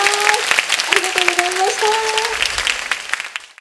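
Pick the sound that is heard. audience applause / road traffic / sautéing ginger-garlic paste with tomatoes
audience applause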